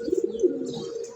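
Pigeons in a loft, a brief low warbling coo repeated in quick pulses, close and steady.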